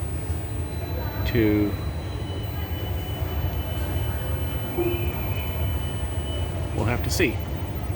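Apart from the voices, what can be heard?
train at a station between Delft and Rotterdam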